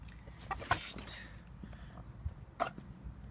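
A few short clucks from chickens, soft and fairly close, with brief sharp calls standing out against a quiet background.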